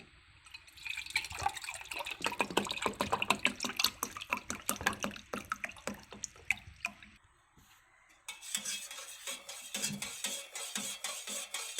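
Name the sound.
pouring cold water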